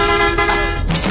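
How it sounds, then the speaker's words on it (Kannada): A lorry horn honks loud and close in one long sustained blast, with a brief change in tone near the end. "ಒಳ್ಳೆ ಲಾರಿ ಹಾರ್ನ್ ಸೌಂಡ್ ಇದ್ದಂಗಿದೆ"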